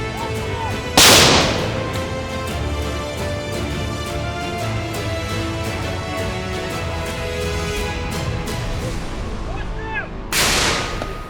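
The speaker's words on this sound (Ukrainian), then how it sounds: "Це 120-й міномет." Two loud, sharp 120 mm mortar blasts about nine seconds apart, each a booming report, with a steady low rumble in between.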